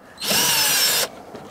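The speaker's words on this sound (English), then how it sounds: "Take our screws out of our speaker." A power drill fitted with a Phillips bit whines for about a second in a single close, loud burst, backing out a speaker screw inside the front door of a 2004 Jeep Grand Cherokee.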